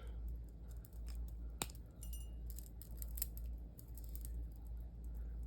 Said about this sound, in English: going to trim the wires